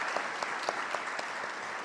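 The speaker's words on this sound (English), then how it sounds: "One more round of applause for all the partners." Applause from an audience at a board of education public meeting, a short burst of steady, moderately distant clapping with no talk over it.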